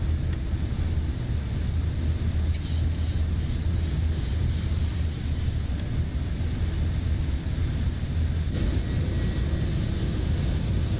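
A PMBG Boeing 737-800 air tanker in Microsoft Flight Simulator roars down the runway on takeoff, a steady loud jet engine rumble with a hissing high whine, no voices.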